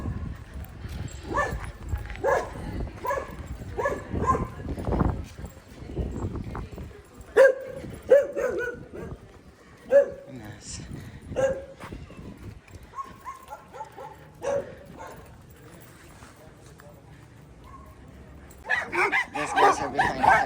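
Huskies bark repeatedly from behind a village fence, sharp nearby barks coming in bursts with short gaps, a few yips among them, and a louder flurry at the end.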